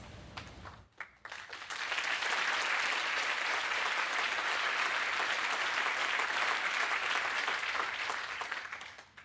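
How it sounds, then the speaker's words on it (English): An audience at a university public health pre-commencement celebration bursts into sustained applause after a brief pause, dense, even clapping that holds steady for several seconds before tapering slightly at the end. "please give all of the outstanding students a round of applause"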